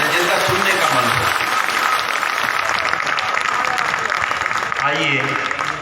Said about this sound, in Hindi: वे लोग तालियां बजा दें जिनका सुनने का मन हो।